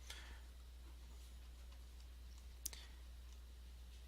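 Faint, quiet mouse clicks from a computer being used to edit a WordPress page, with one sharper click standing out near the end over a low steady hum.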